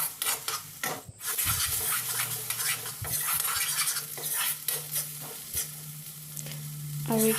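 Spices frying in a pan are stirred with repeated scraping strokes over a steady close sizzle, with occasional clinks of utensil against metal.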